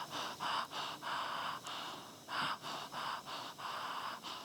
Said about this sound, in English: We're going to do a little bit of rhythmic breathing.